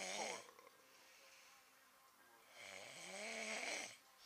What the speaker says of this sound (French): faut que je tombe sur un qui ronfle comme un ours